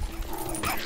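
A dog barks in the blocky adventure-crafting game Adventure Craft Pre Alpha while it chases a bunny, giving a quick, close bark over a busy, steady game soundscape.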